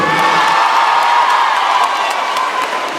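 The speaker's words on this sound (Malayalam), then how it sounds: "നമ്മുടെ മ്യൂസിക് ബാൻഡിനും ഡാൻസ് ടീമിന് ഒരു വലിയ കയ്യടി കൊടുക്കുന്നു" An audience applauds and cheers for a music band and dance team at a film event, dense clapping mixed with whoops and crowd shouts, loud and continuous.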